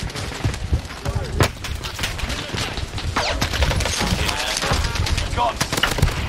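An Owen submachine gun fires in Call of Duty Warzone, rattling off rapid bursts of close automatic fire with sharp, dense shots over several seconds amid other battle noise.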